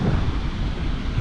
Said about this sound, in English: it's been a lot of this wind